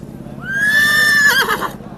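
A horse at a horse fair in Sri Muktsar Sahib, Punjab, lets out one loud, close whinny that rises, holds, then shakes and trails off, with a low background hum underneath.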